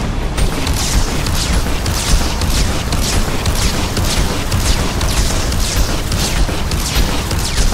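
Cannon fire in the video game Mass Effect 2 booms in a rapid, steady series of blasts over a constant heavy rumble, loud and continuous throughout.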